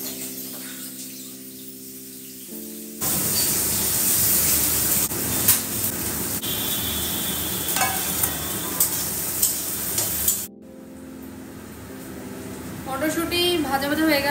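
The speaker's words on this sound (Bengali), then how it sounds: "আমি আগে মটরশুঁটি গুলো দেবো, এগুলোকে ভালো করে ভাজবো" Green peas frying in a pan, a steady broadband sizzle and spatter that starts after a few seconds and runs loud and continuous, with a brief drop near the end before the frying resumes.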